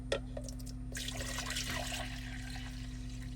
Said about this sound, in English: Now I'd like to see how much of it I have so I can evenly pour it into 2 jars.